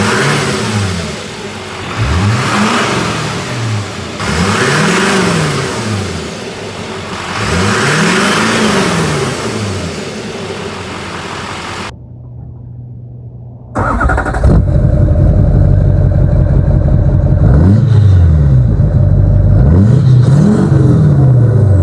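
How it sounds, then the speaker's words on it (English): LLY Duramax diesel truck engine fitted with a new Banks cold air intake, loud close revving in repeated rising and falling pulls, a brief drop, then a louder steady engine rumble with more revs. "All right, first crank up with the new intake."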